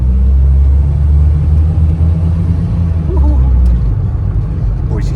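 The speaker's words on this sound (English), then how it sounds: "All right, here we go in the Honda CRX. Two engines." Twin-engine Honda CRX driving, a steady deep engine rumble and drone heard from inside the car, loud and constant, with a brief faint voice near the end.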